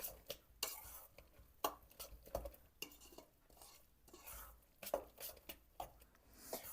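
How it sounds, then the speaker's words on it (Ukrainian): Eggs, chopped onion and semolina are stirred in a bowl, giving quiet, close, uneven scraping and clinking strokes of a utensil against the bowl at an irregular rhythm. "Розмішуємо яйця та цибулю"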